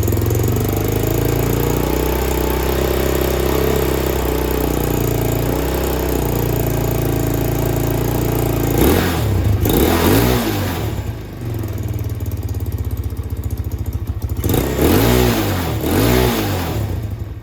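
A carbureted motorcycle engine, a Venom model, idling while it warms up after sitting for months, a steady loud mid-pitched chug that surges in two short revving bursts later on.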